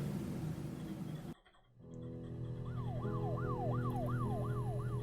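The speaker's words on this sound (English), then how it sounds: "I just heard a siren." A rising and falling emergency siren wails in the Her Story game, starting after a brief hush and cycling steadily several times over a low background hum, with no talking.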